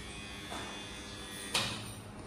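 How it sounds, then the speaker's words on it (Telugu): A lamination machine runs in a photo album factory, giving off a steady electric buzzing hum with a couple of brief swishing bursts, moderately close and with no voices. "ఇది లామినేషన్ మిషన్"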